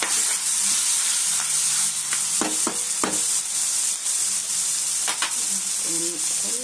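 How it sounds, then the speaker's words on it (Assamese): Broiler chicken meat fries in a pan with a steady loud sizzle, broken by a few scraping clicks of stirring. "আৰু অকণমান ভাজি লওঁ এয়া আমাৰ মাংসখিনি প্ৰায় ভজা হৈ গ'ল"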